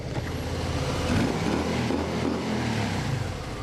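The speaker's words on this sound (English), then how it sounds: "See, that's with the standard exhaust." A 2022 Harley-Davidson Low Rider S117 on its standard exhaust revs inside a tunnel, a loud, dense, echoing engine roar that swells slightly and then holds steady throughout.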